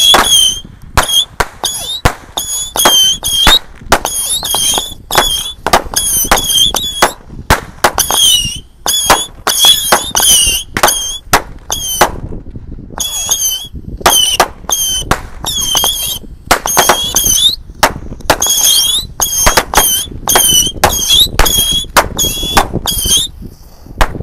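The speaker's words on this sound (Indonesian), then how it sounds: "Ini roket tikus guys. Kita nyalakan ya." Dozens of small roket tikus rocket firecrackers from a 50-shot set shriek and pop in rapid, irregular succession, each a sharp whistling squeal ending in a crack, loud and continuous throughout.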